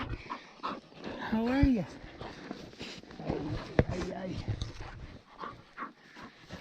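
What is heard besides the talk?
pit bull dog whimpering and panting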